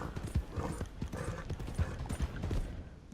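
Horse hooves in Red Dead Redemption 2 clopping in a quick, steady galloping rhythm, close and clear, with faint mechanical rattling of tack alongside and no talk.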